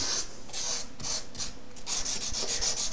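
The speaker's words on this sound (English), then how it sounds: "I'm scrubbing it a little bit more just in case." Rhythmic back-and-forth scrubbing on a rusted knife blade, about a dozen short abrasive strokes in steady succession, close and fairly loud, with no voices.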